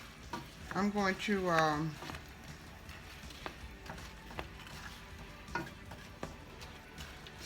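Apples for Southern crunchy hand pies saute in a pan with a faint, continuous sizzle and occasional light clicks of a utensil, while someone speaks briefly near the start.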